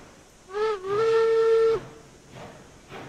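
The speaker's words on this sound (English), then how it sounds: "Vent a little steam. Clean up the cylinders." A steam locomotive whistle in the railroad game RailRoads Online sounds one loud sustained blast of about a second, followed by softer hissing bursts of steam venting from the cylinders.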